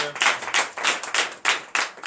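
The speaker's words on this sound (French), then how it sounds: "Donnez de vive acclamation à notre Seigneur" Congregation at a night deliverance prayer service claps in a steady rhythmic beat, about three claps per second, loud and close, with voices mixed in.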